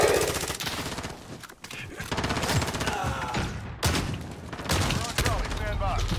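Shotgun blasts in a video game shooter, loud rapid shots packed closely together and layered with other gunfire, continuing throughout with little pause and a voice talking over part of it.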